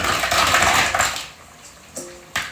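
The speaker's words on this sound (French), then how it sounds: "Maintenant, je vais y ajouter mes moules." Mussels tipped into a small saucepan with shallots: a dense rattling clatter of shells against metal, tapering off, followed by two sharp clinks.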